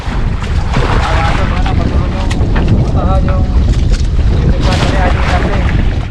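Small fishing boat out at sea in a storm, loud wind buffeting the microphone over rushing waves and a constant engine rumble, with faint voices in the background.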